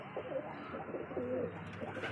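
Teddy pigeons, a newly paired male and female, give low, throaty coos in two or three rolling phrases, close and steady over a soft background hum, with no talking.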